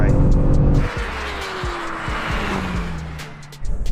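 A BMW M5 CS car and a BMW M1000RR superbike launch side by side in a drag race, with engines roaring, revs rising through gear changes and tires squealing as both pull away, all fairly close and loud.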